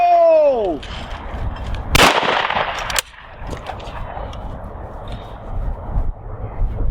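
A Miroku MK70 shotgun fires one sharp, loud, close blast on a shooting ground, followed by another sharp report a second later. A shouted call is heard just before.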